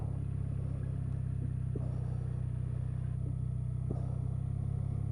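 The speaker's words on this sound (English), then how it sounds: "There's a lad in the car behind me and he is not pleased." A car follows close behind on the winding Oberalp Pass mountain road between Chur and Andermatt, its engine a steady low drone with faint rising revs, heard continuously without speech.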